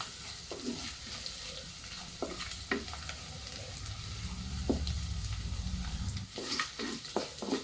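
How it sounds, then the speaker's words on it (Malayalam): Grated coconut frying with garlic in a pan over a wood fire for coconut pickle, a continuous close sizzle broken by repeated spoon scrapes and knocks as it is stirred. "അപ്പോൾ നമുക്കിതിലേക്ക് തേങ്ങ ചേർത്ത് ഒന്ന് മിക്സ് ചെയ്ത് കൊടുക്കാം"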